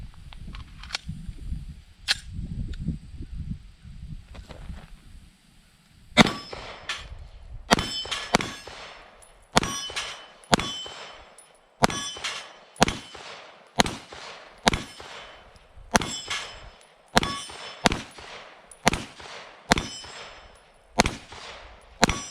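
Pistol shots from a SAR USA K12 Sport race pistol at a shooting range: after some low handling rumble, about a dozen sharp, loud cracks ring out at a fairly regular pace, each with a short metallic ring.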